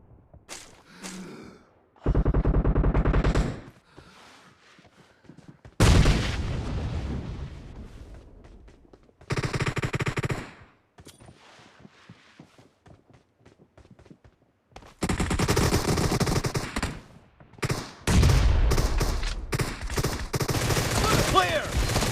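Assault rifle fire in the mobile battle-royale game PUBG Mobile: several loud automatic bursts of a few seconds each, separated by short gaps, with a brief voice line between them.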